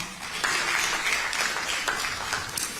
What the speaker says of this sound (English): I think we can applaud him on that first before I continue.